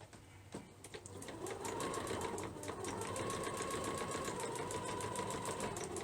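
Sewing machine stitching a market tote bag, running in a fast, steady mechanical patter after a short start, fairly quiet and close with no talk over it.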